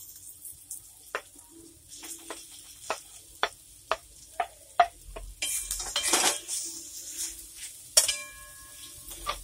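A spoon scrapes and taps against a pan while mashed potato chokha fries, with sharp intermittent clinks building into louder stirring and faint sizzling, close by and with no talking.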